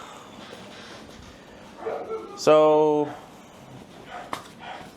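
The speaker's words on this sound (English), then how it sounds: "Sorry for the dogs." Dogs bark indoors, one sharp harmonic bark near the middle and a fainter yip later, over a quiet background, with someone speaking briefly.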